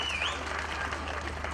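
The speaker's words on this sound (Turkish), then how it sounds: "Bu sevinç büyük alkışlara değer." Audience applause at a ceremony opening a boulevard and park in Erzurum, a steady even wash of clapping throughout, at a moderate distance with no voices over it.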